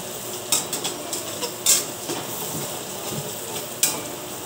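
Chicken pieces with garlic frying in a pan and being stirred, giving a steady close sizzle broken by a few sharp scrapes and clicks of the utensil against the pan, with no talk.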